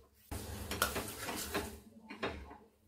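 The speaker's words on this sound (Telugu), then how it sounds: "ఒక 2 మినిట్స్ అడగంటకుండా ఇలా కలుపుతూ ఉండండి" A spoon stirs prasadam with cardamom powder in a metal pot, close scraping and clinking strokes in a quick, uneven rhythm.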